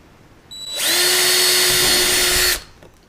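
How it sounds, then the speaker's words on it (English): A power drill bores a mounting hole for a low-profile Anchor Wizard anchor mount, one loud steady whir lasting about two seconds with a clear start and stop, close by and with no talking. "I'll go to the opposite side of the mount and drill the opposite diagonal hole next"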